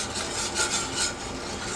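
A spoon scrapes and rubs through flour being stirred into beef liver gravy in a pan, a steady close rasping with a few louder strokes over a short stretch, no talking.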